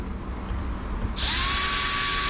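A power drill spins up to a steady high whine while driving small screws into a Traxxas Maxx 4S RC car during a rebuild, loud and close after a moment of low background noise.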